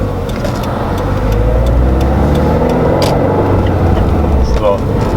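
A turbocharged Subaru Crosstrek with an AVO turbo kit on the FB20 engine accelerating into boost, a steady rising engine and road drone heard from inside the car with someone talking over it.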